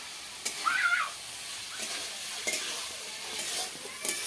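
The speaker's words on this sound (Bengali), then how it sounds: "মশলা কষা হয়ে গেছে আর আলুও ভাজা হয়ে গেছে ভালো করে মশলার সঙ্গে" Potatoes frying with spices in a pan sizzle softly while being stirred, with a few short scraping strokes and hissing bursts spread across the clip.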